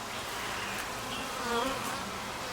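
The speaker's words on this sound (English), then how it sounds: "we just pulled the top box off of our Winnie the Pooh hive, and they have, for whatever reason, decided to put honey in their cross comb between the 2 boxes" Honey bees buzz steadily and densely throughout at an opened backyard beehive during an inspection, with the top box just lifted off; the hum is close, continuous and even, swelling slightly midway, with no voices.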